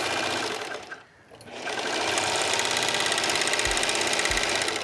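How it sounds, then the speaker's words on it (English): Serger sewing machine running off the end of a seam: a fast, loud mechanical whirr with a short pause near the start, then steady humming and rattling with a couple of low thumps. "And I'm just going to serge off."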